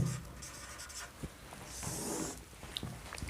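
Pen writing out a vector calculation on paper, with soft scratching strokes and occasional taps heard up close and quiet.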